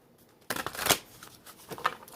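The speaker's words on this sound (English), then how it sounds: "I'm shuffling because I want to see if that wheel comes out." A deck of tarot cards being shuffled by hand, a close, soft riffling and papery flicking in quick uneven bursts after a moment of near quiet.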